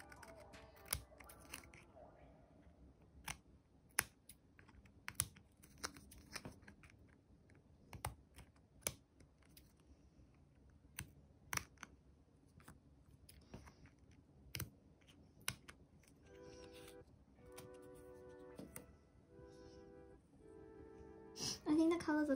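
Scissors snip excess paper from a sticker sheet while decorating a black-bordered photocard, giving sharp, close clicks in an irregular run, with a few louder cuts and light handling rustle near the end.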